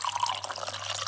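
Water trickles and drips from a leaking metal lota, a steady close splashing pour lasting about a second over a faint low hum.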